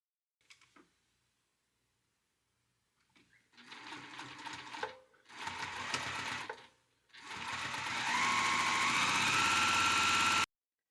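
Sewing machine stitching a corset bone channel along a side seam for a cottagecore garment, a few short whirring bursts and then a longer steady run, close with quiet gaps between.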